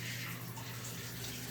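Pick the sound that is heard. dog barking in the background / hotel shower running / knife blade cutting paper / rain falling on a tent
hotel shower running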